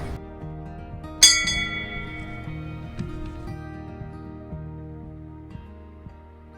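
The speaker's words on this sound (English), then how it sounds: "would you at least bow your head while we toll the ship's bell?" A single ship's bell struck once in a memorial ceremony for departed shipmates at a community television celebration in Kenosha, Wisconsin, ringing out clearly and decaying slowly over a low hum of room sound.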